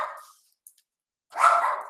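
A dog in the background of an online class barks twice, with a short sharp bark, a silent gap, then a louder, longer bark, alone without talk.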